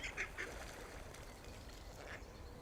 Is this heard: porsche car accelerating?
no